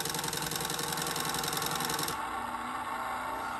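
A remote control monster truck toy plays its electronic engine sound effect, a loud rhythmic idling rumble that shifts abruptly to a lower, steadier drone partway through.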